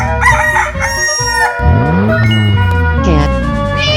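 A rooster in a 3D animal video game crows loudly and close, with a drawn-out call under busy game music and effects.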